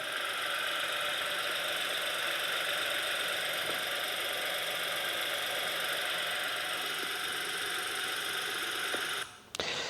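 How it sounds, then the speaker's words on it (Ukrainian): A car engine, a Mazda CX-5 Grand Touring Reserve or Ford Escape ST Line, runs steadily for about ten seconds with a rough knocking tone, close and loud, cutting off abruptly at the end. "Давайте послухаємо відео роботи двигуна"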